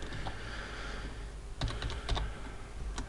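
Code being typed on a computer keyboard, a quick close burst of clicking keystrokes following a quieter stretch of room noise.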